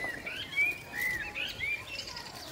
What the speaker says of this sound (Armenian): իմ այգու սոխակները երգում են մեր համար